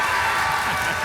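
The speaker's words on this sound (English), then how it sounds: "Cheer for Marina." A convention panel audience at a Super Smash Bros. event cheering and clapping, a dense sustained crowd roar filling the space.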